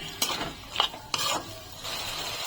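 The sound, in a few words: stirring and sautéing spice masala in a pan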